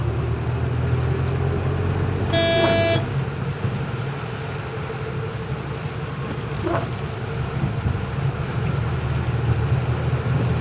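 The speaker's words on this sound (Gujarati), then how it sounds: "વરસાદમાં બહુ ટ્રાફિક થાય પાછો" Road traffic in heavy rain in Ahmedabad, a constant low rumble of passing vehicles with one brief horn blast near the start and a fainter honk later, no talking.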